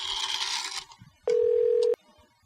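A burst of touch-tone dialing beeps, a pause, then a single steady electronic tone lasting under a second, like a phone line signal.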